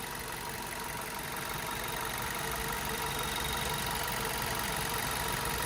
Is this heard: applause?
no